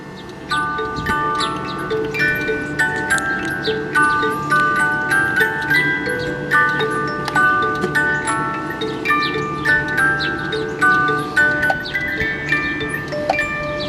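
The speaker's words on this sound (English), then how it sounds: "you should be getting 11 calls for 11 o'clock, and musical chimes following the cuckoo door closing" A wood-carved cuckoo clock strikes eleven o'clock, its cuckoo calls repeating in a steady rhythm, followed by bright musical chimes after the cuckoo door closes, loud and close with no talking.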